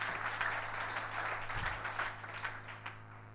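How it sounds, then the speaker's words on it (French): A church congregation applauds during a French-language sermon, a dense, steady wash of clapping that fills the whole stretch with no voices on top and thins slightly toward the end. "Applaudissons le Seigneur."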